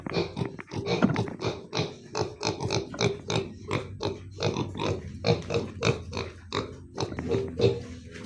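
Pigs on a farm grunt and oink continuously, a dense run of close, rhythmic snorts and squeals from several animals with no talking.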